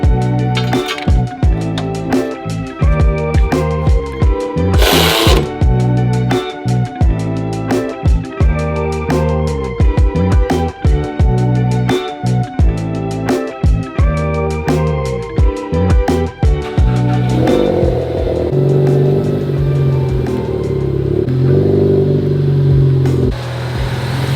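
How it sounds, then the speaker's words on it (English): A Ford Focus ST engine's exhaust rumbles loudly after new spark plugs, repeatedly revving in choppy bursts with clattering pops, then settling into a smoother, lower idle near the end. "The rumble is already so much better. Shows its true exhaust."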